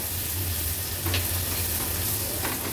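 Finely chopped onion frying in oil in a pan for a Maharashtrian veg thali, with a steady close sizzle that runs throughout and has a few faint stirring scrapes over it, with no talking.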